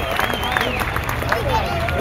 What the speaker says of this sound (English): huge round of applause for this wonderful boy